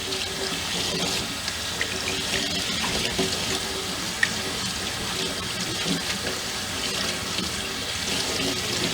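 Tap water runs steadily over watermelon seeds in a colander at a kitchen sink, a close, continuous splashing hiss with small uneven spatters and no speech.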